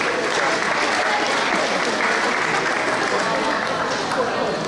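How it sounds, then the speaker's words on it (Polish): Crowd applause at the award ceremony for an extreme mountain half marathon, loud, dense and sustained clapping from a sizable outdoor gathering, with voices mixed in beneath. "Wielkie, wielkie brawa."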